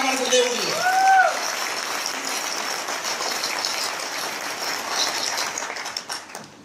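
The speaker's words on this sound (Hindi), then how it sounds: "एक बार जोरदार तालियां हमारे गुरुदेव के लिए।" Audience applause for the guru-teachers at a Hindi business gathering, a broad wash of clapping sustained for several seconds after a voice falls away, with a brief whistle-like sweep near the start.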